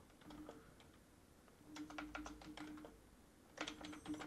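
A help desk ticket note is typed on a computer keyboard, quick bursts of close, crisp key clicks with short pauses between runs.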